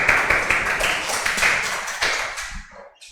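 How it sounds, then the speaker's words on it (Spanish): Audience applause welcoming a speaker at a law conference, steady clapping from a room of people that thins and dies away near the end. "Doctor Bermúdez, lo recibimos con un fuerte aplauso."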